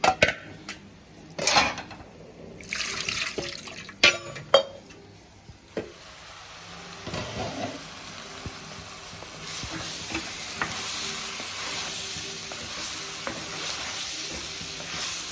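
Brinjal and small fish curry simmering in tamarind sauce in a home kitchen pan: clattering stirs and pot knocks early, then a steady soft sizzle and bubbling hiss, close and fairly quiet.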